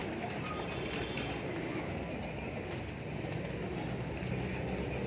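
Pigeons at a breeding loft in Lahore coo amid steady rustling and background noise, their calls blending into a continuous dense murmur without clear separate phrases.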